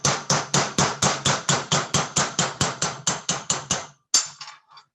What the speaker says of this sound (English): So you can hammer it down.